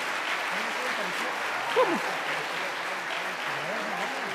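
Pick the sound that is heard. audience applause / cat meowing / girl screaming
audience applause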